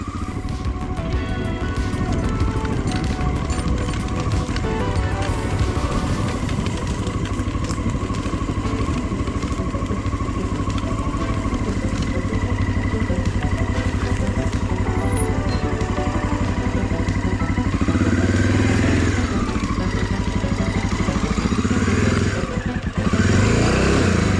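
A Honda XL600R motorcycle rumbles continuously along a rough off-road trail, its loud engine droning steadily with rises and dips in revs and rattling clatter throughout, heard close with no talking.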